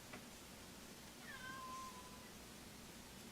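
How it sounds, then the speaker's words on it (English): A cat gives a single faint, short meow somewhere in a quiet room, barely above the background hiss. "I have mad cats."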